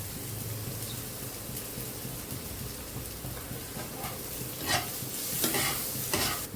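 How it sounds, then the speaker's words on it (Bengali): Dal sizzles and fries in a pan for suji khichuri while being stirred, a constant close hiss with scraping stirs growing more distinct toward the end. "লাল লাল করে ভেজে নেব।"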